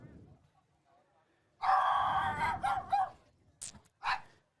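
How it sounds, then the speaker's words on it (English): A dog barks during a high school baseball game, several loud close barks in a burst followed by a couple of shorter ones, with some voices nearby. "As Steiner gets some cheers on from a dog"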